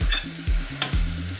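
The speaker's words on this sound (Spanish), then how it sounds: "Dejamos que se rehoguen, se frían tranquilamente." Garlic and ham frying in a pan for a garlic soup, a steady close sizzle with a few scraping stirs of a utensil.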